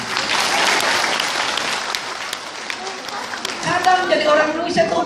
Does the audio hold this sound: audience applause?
yes